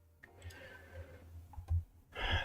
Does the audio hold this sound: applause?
no